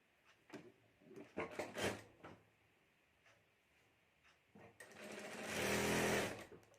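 A sewing machine stitches a folded cloth border for a homemade clutch, with short hesitant bursts of close rattling stitching early on, then a pause with faint clicks, ending in a longer, louder sustained run.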